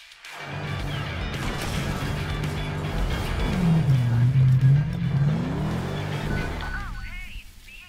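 Race cars in the driving video game Heading Out roar along with steady engine noise, and a crash thuds in as they collide. Engine drone continues under a voice talking.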